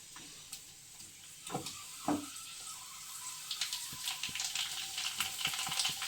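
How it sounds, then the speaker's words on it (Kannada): Pani puri fry in hot oil at home, making a quiet sizzle with scattered crackles and light clatter that grow busier and louder toward the end, with no talking. "ಆಯಿಲ್ ಗರಂ ಆತ. ಈಗ ಒಂದೊಂದು ಸ್ವಲ್ಪ ಫ್ರೈ ಮಾಡೋಣ."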